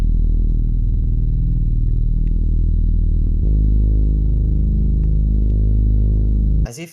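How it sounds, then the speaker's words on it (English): A deep, sustained synth bass tone with strong low rumble, holding steady, shifting pitch midway, then cutting off abruptly near the end. "Next sound is this bass from my One Shot Kit."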